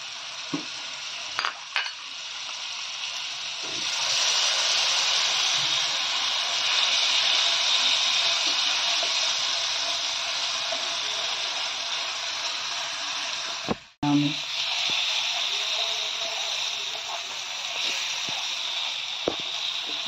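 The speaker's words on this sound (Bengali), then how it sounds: "ভালো করে কষানো হয়ে গেছে, আর 1 মিনিট কষাবো।" Spice masala sautéing in a pan for a traditional Bengali aar fish curry, a steady dense sizzle with occasional stirring scrapes and utensil clinks, one sharp knock midway, no talking.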